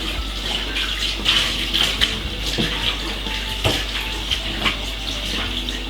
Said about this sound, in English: And then I'm going to wash off the salt beef now and the pigtail together.